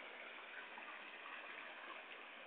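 Hot spring water flows steadily from a spring in ground turned red by the heat, a continuous rushing, bubbling wash heard up close and alone.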